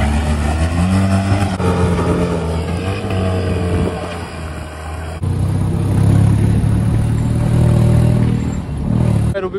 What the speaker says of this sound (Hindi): रूबिकॉन के कमाल देखते हैं यहाँ से ऊपर चढ़ती है कि नहीं